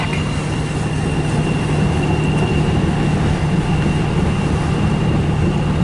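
A CN freight train hauling autorack cars behind a single engine rolls past in Port Huron, Michigan, making a loud, unbroken rumble with a steady hum that holds throughout, with no talking.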